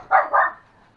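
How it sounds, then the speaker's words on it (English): A dog gives two quick barks close by, a sharp double yap followed by quiet. "You know why they're barking?"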